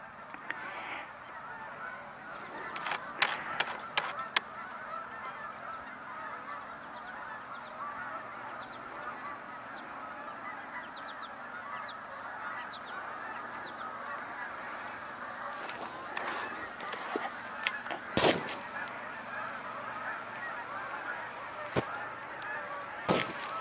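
Large flocks of geese fly in overhead outdoors, their honking a dense, continuous chorus at middle distance, rising and falling in waves with a few louder bursts near the end.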